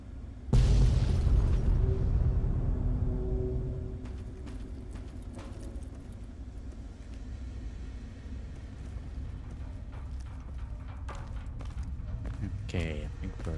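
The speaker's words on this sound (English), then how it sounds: "Little chain of explosions happening." A chain of explosions in the video game Fallout: Tale of Two Wastelands, opening with a loud deep boom and fading into a rumbling roar with scattered pops and crackles over several seconds.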